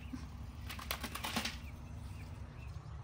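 Wings flapping in a short burst of several quick beats as birds come and go at a backyard bird feeder, fairly close, over steady low outdoor background noise with no talking.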